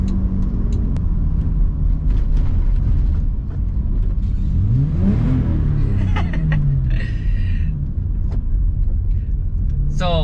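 A 1989 BMW E30 325is with an aftermarket exhaust revs up and settles, a rising and falling engine note over a steady rumble, with people talking and chuckling nearby.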